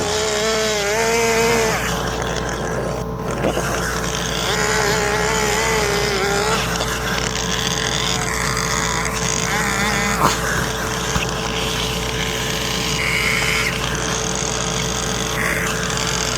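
A chainsaw making plunge cuts and clearing wood while carving a bear from a block, its engine droning continuously and loudly up close, pitch shifting as it bites into the wood.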